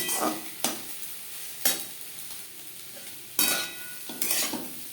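Egg and potato mixture for dim aloo bhujia stirred in a pan over a medium gas flame, a soft sizzle under sharp scrapes and taps of a utensil against the pan at irregular intervals, close and fairly quiet.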